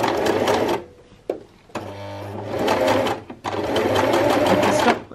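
A sewing machine runs loud and close in several bursts of rapid stitching while sewing a reverse stitch, pausing briefly between runs, with someone speaking quietly in the gaps.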